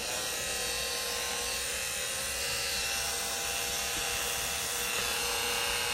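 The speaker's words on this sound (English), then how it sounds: "Got my Dremel ready to go." Dremel rotary tool spinning at speed 1, a steady high-pitched whine and buzz held close and loud throughout, with no voices.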